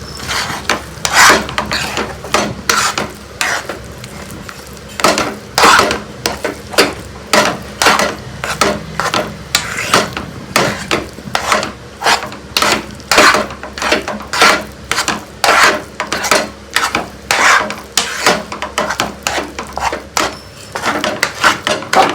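Curd being stirred into a raw banana chutney in a bowl, steady rhythmic scraping strokes repeating about once a second, close and fairly loud, with no talking.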